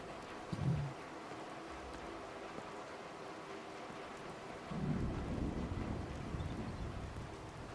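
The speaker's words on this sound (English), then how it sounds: "Is it raining?" Rain falls steadily outdoors while thunder rumbles twice, a short low boom early and a longer rolling peal later, both fairly distant and soft.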